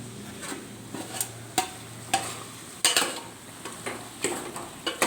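Chicken biryani ingredients are stirred in a pot, with a spoon clinking sharply against the metal in a steady rhythm of strokes about half a second apart over a low, constant background hum.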